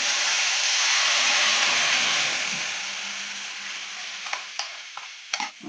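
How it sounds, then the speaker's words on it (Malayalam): Hot mustard seed tempering is poured into a papaya and bean curry and erupts in a loud, dense sizzle that slowly fades, ending in a few sharp spits and pops. "അപ്പം നമ്മൾ കടുക് താളിച്ചൊഴിക്കാൻ പോവാം"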